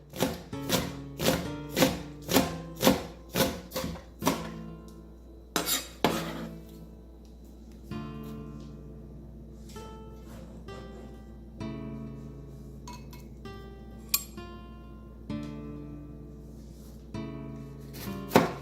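A kitchen knife slices green onions lengthwise on a board in a quick, regular series of crisp, close taps, then slower, scattered cuts and light scraping.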